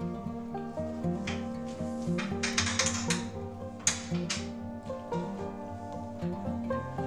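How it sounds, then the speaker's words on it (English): Wing nuts being spun and tightened onto bolts while assembling a spreader bench, a series of small metallic clicks and ratcheting scrapes, close and fairly quiet, over a faint background hum. "Another wing nut. And then tighten both."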